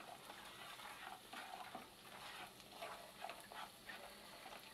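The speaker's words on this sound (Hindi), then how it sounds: "अब इसे 30 सेकंड के लिए इसी तरीके से फ्राई करेंगे ताकि जो हमारे मसाले हैं सूखे भून जाएँ।" Dry spices with kasuri methi fry softly over a low flame in a pan, a faint, steady crackling hiss with light stirring scrapes throughout.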